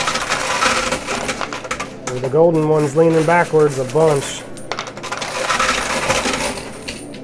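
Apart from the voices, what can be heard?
quarters dropping in a high limit coin pusher machine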